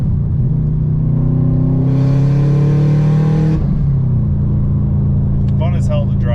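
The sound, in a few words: 2012 Subaru WRX hatchback engine running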